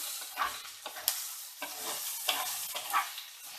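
Okra pieces and curry leaves fry in a pan for bendakaya fry, with a light steady sizzle broken by several sharp scraping stirs of a spatula at close range and no talking.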